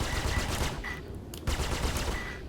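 Ship guns in a space combat game fire in rapid, continuous automatic bursts, steady and fairly quiet, with brief gaps between volleys.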